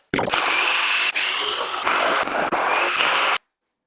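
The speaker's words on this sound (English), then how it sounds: "I'm doing this with the jigsaw for you guys." A jigsaw cutting through wood, a loud continuous buzzing saw roar lasting about three seconds with brief dips as the cut pauses, close by and alone.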